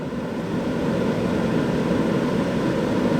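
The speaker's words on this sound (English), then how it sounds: "and then this is jet plane mode" An Enviroklenz air purifier runs at its highest fan speed, giving a loud, constant whooshing roar like a jet that holds steady throughout.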